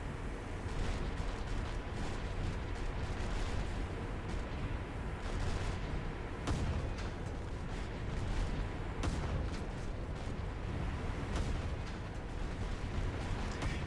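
Destroyer deck guns in War Thunder naval combat fire on their own, quiet and distant, a dense wash of booms and cracks scattered over continuous rumbling battle noise.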